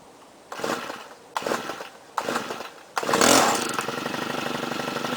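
A Stihl FS90R string trimmer engine is pulled over three times in short bursts, then catches and runs steadily at a loud, buzzing idle close by.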